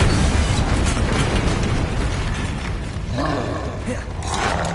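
Bombarda spell explosions in Hogwarts Legacy: loud, dense rumbling blasts filling the clip, with crackling debris and a couple of sharper bursts near the end.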